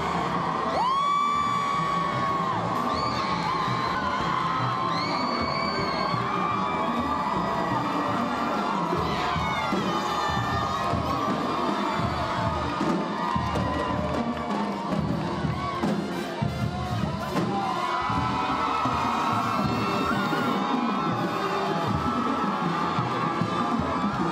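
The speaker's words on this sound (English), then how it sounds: "give it up for the cheer squad, give it up for the spirit team" A high school crowd cheers for the cheer squad and spirit team at a sports event. Loud, sustained shouting, whoops and high children's yells rise and fall over a constant roar of voices.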